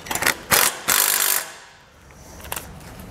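A ratchet snugs down a bolt on a Roadmaster Direct-Connect base plate being mounted to a 2022 Chevrolet, giving a few short, close bursts of clicking that stop, leaving a quiet tail with another faint click near the end.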